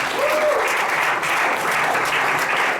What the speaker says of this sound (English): Can we give more ventures a round of applause, please?